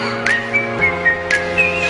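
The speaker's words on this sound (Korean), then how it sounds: "휘슬" A whistled melody in a K-pop song rises in short repeated phrases over a steady backing track. The whistling is clear and upfront.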